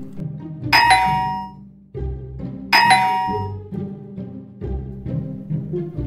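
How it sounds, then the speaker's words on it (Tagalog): Doorbell pressed twice at a house entrance, each press giving a bright ding-dong chime that rings out and fades, with a low background murmur between the two rings. "Marahang binatukan ni Toto si Bong bago pindutin ang doorbell."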